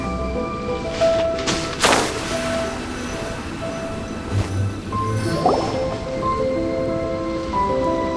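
Water draining away as the level drops in Genshin Impact, a soft steady wash with scattered drips and squishy splashes under a faint tonal game ambience.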